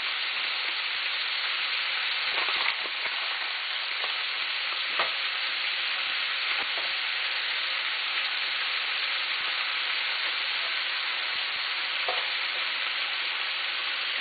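A sausage and pepperoni mixture with onions frying in a pan gives a steady, close sizzle throughout, with a few soft scrapes and pops from stirring.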